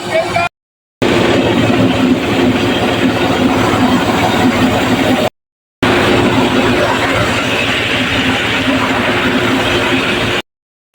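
Chain-track paddy harvester machine running in a muddy rice field, a loud, steady mechanical roar and rattle heard up close, broken by brief cuts.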